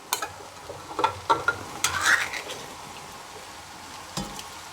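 A spoon stirs canned diced tomatoes into a hot, sizzling pan, with several scraping strokes and soft clinks over a low sizzle, then quieter pauses and one last scrape.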